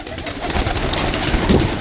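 Pigeons coo and flutter close by in a steady, busy flock, with soft rustling and a brief louder burst near the end.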